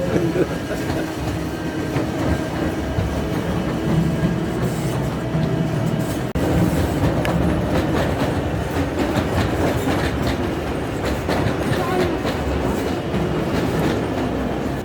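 A salt mine express train carries riders through an underground Kansas salt mine, rumbling with steady clickety-clack wheels and metallic rattles throughout, shifting in tone partway, with faint voices beneath the loud rail noise.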